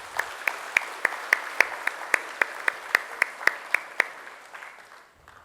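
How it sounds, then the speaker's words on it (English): Applause at a university ceremony at VIT comes through as evenly spaced, crisp claps in a steady rhythm, close and distinct, tapering off near the end. "let us give our Chancellor, the leaders, all of you, and the people that came before a big round of applause."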